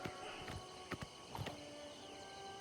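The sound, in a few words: horse hooves clip-clopping in video game Oblivion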